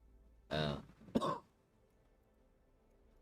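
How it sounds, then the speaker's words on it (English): Someone in a workshop prototyping a 3D printer tool-changer dock clears their throat and coughs twice in quick succession, close to the mic, then goes quiet. "Coughing my eyes out."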